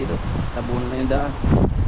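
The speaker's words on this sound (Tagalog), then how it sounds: "Lakas po ng hangin." Strong wind from Typhoon Carina (Gaemi) roars and buffets the microphone with low, gusty rumbling while a voice speaks over it.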